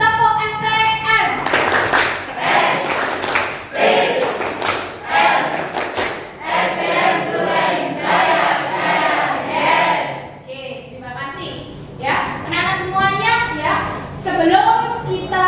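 A class of schoolchildren performs a rhythmic clapping chant, the "tepuk STM", at the start of a lesson. Repeated claps and thumps run in patterned bursts, mixed with children's chanting voices, and the sound stays loud throughout.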